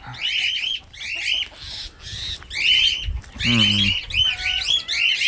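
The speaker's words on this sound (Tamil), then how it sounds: "மைனா கஞ்சிக்கு சவுண்டு கொடுத்து கூடுது பாருங்க." A myna calls to its chick in a rapid series of loud, close chirps, squawks and whistles, with a short harsh rattling call partway through and brief gaps between bursts.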